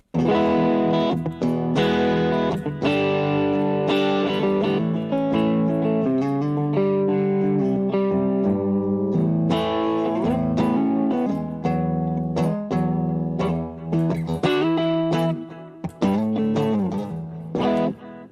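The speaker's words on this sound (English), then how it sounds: "let's hear some clean tones. So, neck pickup." North Point electric guitar on the neck pickup with a clean, warm tone plays sustained chords and picked notes, ringing out alone with light reverb.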